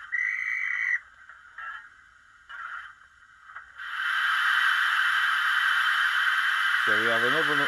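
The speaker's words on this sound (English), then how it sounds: "Number seven, dispatch whistle." Dispatch whistle from a DCC sound decoder in a Bachmann Fairburn Class 42085 model locomotive: a few short shrill toots, then a long sustained close whistle, with a brief voice-like sound at the end.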